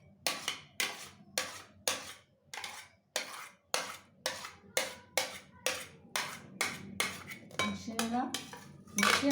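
Cucumber mixed with a spoon in a bowl gives a steady run of about fifteen crisp, rhythmic clinks and scrapes, close and clear, picking up pace and loudness at the end.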